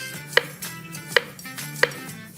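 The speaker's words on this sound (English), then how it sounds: "But if you're just chopping it up, it doesn't really matter the shape." A knife chops through a rutabaga or taro root on a cutting board, three sharp, evenly spaced strikes close by with quiet room tone between them.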